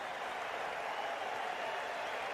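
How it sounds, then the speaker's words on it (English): Spectators at a Sydney Sixers versus Melbourne Renegades cricket match applaud and cheer, a faint, distant, continuous wash of crowd noise. "The crowd is electric right now."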